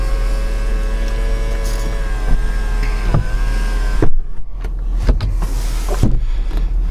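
Electric motor sliding the sunroof of a 2001 Toyota Celsior (Lexus LS430) open, a steady close whirring hum for about three seconds that stops, followed by a few soft clunks and cabin knocks.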